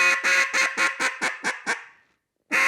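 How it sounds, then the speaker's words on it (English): Someone blows a duck call in a descending quack cadence. About eight loud, raspy quacks come one after another, each shorter and softer than the last, then a short pause and one more loud note. "So that's where you start to sound like a duck,"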